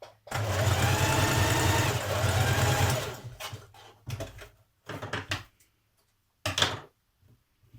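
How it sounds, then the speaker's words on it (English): Sewing machine top stitching a pocket facing on a Burda 6240 summer dress, with a loud three-second run of steady stitching followed by several short, clipped bursts separated by pauses. "Now I'm top stitching it from the top."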